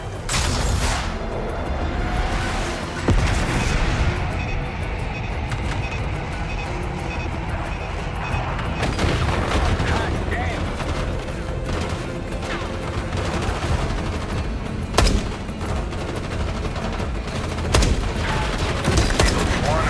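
Sustained gunfire and heavy explosions from a Call of Duty Black Ops 6 airstrike, with loud rolling blasts, machine-gun bursts and sharp impacts around 3, 15 and 18 seconds, continuous and close throughout.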